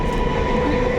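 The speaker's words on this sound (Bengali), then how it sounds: "বৃষ্টিতে আজকে ট্রেন রাইট টাইমেই চলছে।" Train running on rails in the rain, a steady, loud, continuous rumble heard from inside a carriage with no distinct clacks.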